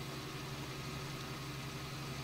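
A Ford tractor engine idles steadily in Farming Simulator 19, a low, even, continuous rumble at moderate volume with no other sounds.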